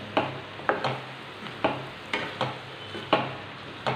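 A spoon stirs chicken fry masala in a pan, scraping in a steady rhythm of about eight quick strokes over a soft sizzle, close and fairly quiet.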